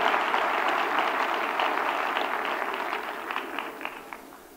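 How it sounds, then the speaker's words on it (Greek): A theatre audience breaks into applause, a dense patter of many hands that starts strongly and gradually thins and fades over a few seconds, with no talking. "Ένα χειροκρότημα για όλους τους ευφυείς που έχουμε μέσα στο δωμάτιο"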